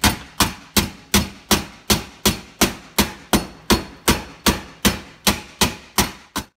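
Steady hammer blows flattening a bent metal flange while mounting a Dayton 6FHX9 blower to a fan panel: about seventeen sharp, loud, evenly spaced strikes, each ringing briefly, with no voices.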